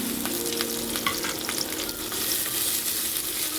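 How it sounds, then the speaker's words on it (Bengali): Onion, garlic and green chili fry in oil with black cumin seeds for a potol and prawn bhorta, a steady close sizzle with faint stirring scrapes and no voices. "হালকা করে ভেজে নেব।"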